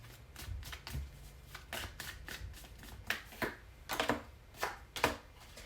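Tarot cards are shuffled by hand in a rapid series of soft, crisp riffling and slapping bursts, close and fairly quiet, with no talking.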